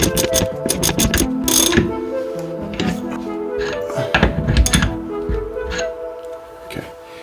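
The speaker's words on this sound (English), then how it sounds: "I can use a socket wrench, put it at the top," A hand socket wrench ratchets in a small garage workshop while an air filter is mounted, with quick clicking runs, taps and clunks of parts handled up close, and no talk over it.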